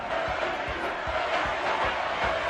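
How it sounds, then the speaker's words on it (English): A boxing arena crowd rhythmically chanting for Manny Pacquiao during his fight with Morales, repeated chant pulses with thumping beats over a loud, steady crowd roar. "Pacquiao crowd chanting, Manny, Manny, Manny."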